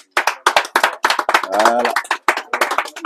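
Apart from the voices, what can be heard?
audience applause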